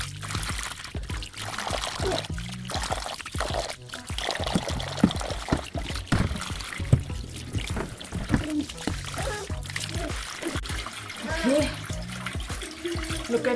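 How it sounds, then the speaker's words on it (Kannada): Plain room-temperature water runs and splashes as a face is rinsed clean, with uneven pouring and splashing bursts and a person talking over the water. "ನಾರ್ಮಲ್ ನೀರಲ್ಲಿ ನೀಟಾಗಿ ತೊಳ್ಕೊಳ್ತೀನಿ."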